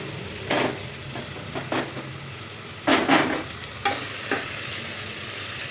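Gongura leaves sizzle steadily in a hot pan, with a ladle scraping and stirring in scattered, louder strokes over the constant frying hiss.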